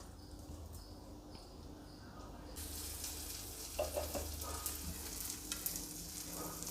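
Hapu dosa frying in oil on a pan: a quiet start gives way to a bright, continuous sizzle, with a few scraping touches from a spatula scattered through it.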